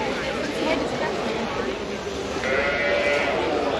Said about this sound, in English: These breed behind me here are arguably the cutest breed of sheep in the world.